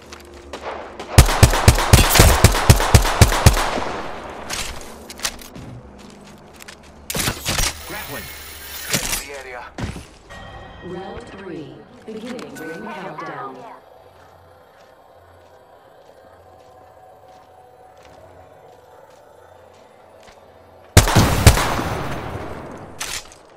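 Gunfire in an Xbox shooter game comes as loud, rapid automatic bursts early on, then shorter volleys and mechanical clatter, a long quieter lull with a low hum, and a final heavy burst near the end.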